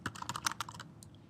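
Rapid clicking keystrokes on a computer keyboard, a quick close burst of about a dozen taps that trails off into quiet.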